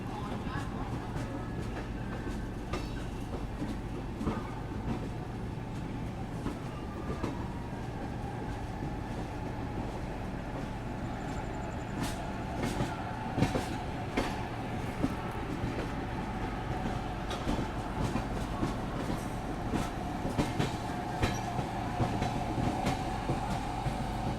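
Kashi Vishwanath Express pulling out of Bareilly station, a steady near rumble of wheels on rail with faint clicks and squeals throughout, while a voice speaks over it at times.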